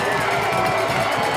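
Dense stadium crowd noise at a high school football game, a steady loud roar and babble building on third down, continuous throughout with no distinct voice standing out.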